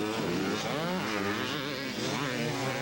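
A Kawasaki motocross motorcycle races at a 1992 county fair motocross event, its engine a steady, loud buzzing drone with shifting revs, held without a break.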